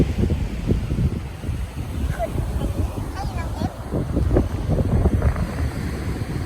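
Wind buffets the microphone over steady surf on a Thai beach during the Songkran holiday, a constant broadband roar with waves washing in and people talking close by throughout.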